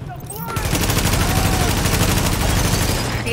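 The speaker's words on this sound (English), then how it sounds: "The escort party's taking heavy fire from the roof." Sustained machine gun fire from a rooftop gunner in The Division, a dense continuous clatter of rapid shots that holds steady and loud for about three seconds after a brief quieter lead-in.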